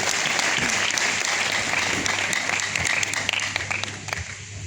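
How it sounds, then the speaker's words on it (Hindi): An indoor audience applauds at a women's gathering, a few seconds of dense, steady clapping that thins slightly toward the end, with faint voices underneath. "तो एक बार तालियां बजा दीजिए"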